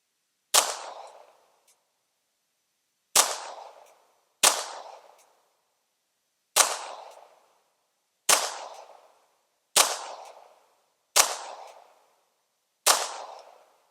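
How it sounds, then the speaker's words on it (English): Bersa Thunder .380 pistol fired slowly at a range: eight sharp, loud gunshots spaced a second or two apart, each with a short decaying echo and silence between, no talk. "So let's shoot it slow and see if it'll eat each one of them."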